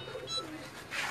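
A Pakistani pigeon on a Jeddah rooftop gives one brief, quiet coo.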